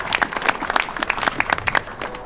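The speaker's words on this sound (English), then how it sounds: "Let's give them a round of applause." Audience applause rings out at a downtown Sioux Falls city railyard event, a brief burst of many hands clapping close by, dense and irregular, fading slightly toward the end.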